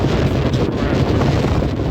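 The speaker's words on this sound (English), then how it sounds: "Oh, it's so windy." Strong wind buffets the microphone on an exposed road by the Presidential Ridge in the White Mountains, a loud, continuous roaring rush with no letup and no voices.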